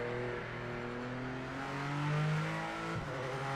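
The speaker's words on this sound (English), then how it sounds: "That rev limiter cutting quite aggressively there." A car engine revs hard and holds high rpm with a strong, steady harmonic drone. It bounces off the rev limiter in abrupt cuts near the end, loud and close, with no talking.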